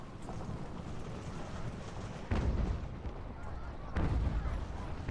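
Artillery canister fire in the game Ultimate General: American Revolution, two heavy booming blasts roughly three seconds apart over a constant low rumble of distant battle noise.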